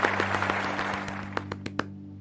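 A short applause sound effect plays on a live stream, with a patter of hand claps over a steady humming tone, ending in a few distinct louder claps.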